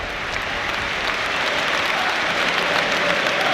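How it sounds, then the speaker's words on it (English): Football crowd at an FA Cup match between Aston Villa and Tottenham Hotspur applauding as a substituted player leaves the pitch, a steady, dense wash of clapping throughout with no voices standing out. "So Lucadinha is being clapped off."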